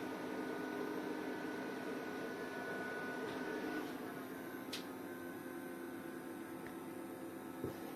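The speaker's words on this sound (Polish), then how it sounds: "widać wszystkie wentylatory pracują." Cooling fans of a POWMR 6.5 kW 48 V off-grid inverter whir in a constant, even hum with a faint hiss, running steadily with a few tiny clicks and no voices.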